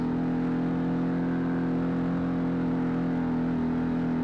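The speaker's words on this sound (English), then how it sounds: "My exhaust is a little loud" A loud, steady engine drone from the exhaust of a Can-Am Maverick Trail 800 side-by-side on a trail, holding a constant low rumble throughout with no pauses.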